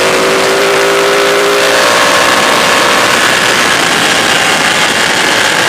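A Ducati 899 Panigale motorcycle is ridden hard on bumpy roads at speed, its engine delivering a loud, sustained high-revving howl with a rising tone early on, then steady roaring wind and engine noise.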